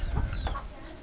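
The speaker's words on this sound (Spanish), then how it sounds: "Mira cómo están los pollos ahí." Chickens cluck close by in a backyard poultry yard in Cuba. A quick burst of short, throaty clucks rises and fades over about a second.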